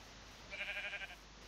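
A sheep bleats once in Minecraft, a short wavering bleat heard clearly over a steady background hiss, with no talking.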